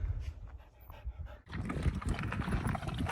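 A dog pants heavily and rhythmically at close range outdoors at a camp during an animal-tracking outing, with rustling and movement noise around it.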